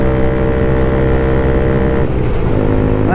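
A Honda Grom motorcycle engine idles loud and close, a steady low mechanical drone with a slight shift in tone near the end and no talking.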